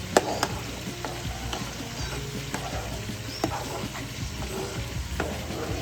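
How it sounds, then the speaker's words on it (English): A spoon stirs Rasta Pasta sauce cooking in a pan, scraping and clinking in irregular knocks over a steady low sizzle, close by with no talk. "You want to still like stir it a little bit as it's cooking."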